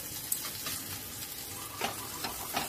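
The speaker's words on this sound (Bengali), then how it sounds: "হাতা আর একটা খুন্তির সাহায্যে উলটপালট করে দিচ্ছি, এতে ওপর পোর্শনটা ভাজা হয়ে যায়" A peas-stuffed lachha paratha fries in oil over high flame with a steady soft sizzle, broken by a few brief scraping clinks as a ladle and spatula flip it.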